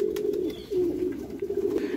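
Pigeon cooing during feather plucking, a steady low warbling coo running nearly unbroken for two seconds, close and fairly loud, with no voices.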